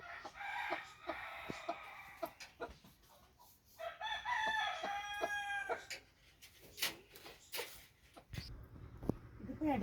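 Native backyard chickens cluck repeatedly at close range while a rooster crows in drawn-out, harmonic calls partway through, mixed with scattered clucks and farmyard noises.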